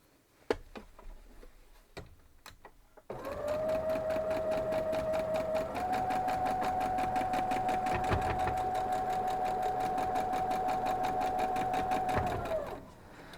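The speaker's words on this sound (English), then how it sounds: "Next one, making sure I'm sewing it correctly this time." A sewing machine stitches a quilt block in one long, steady whirring run with a fast mechanical ticking beat, heard close and loud after a few soft clicks and handling sounds, then stopping abruptly.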